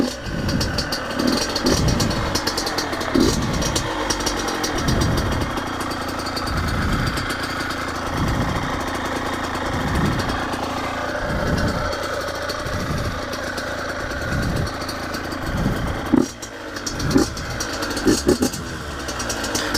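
A rebuilt Yamaha YZ85 two-stroke dirt bike fires on the first kick and runs loud and close, its engine pulsing in a steady rhythm with occasional revs near the end.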